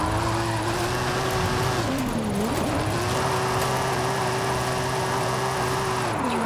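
A car engine in Forza Horizon 5 held in third gear while the throttle is worked, a steady loud drone that dips briefly and climbs back, with tire noise underneath.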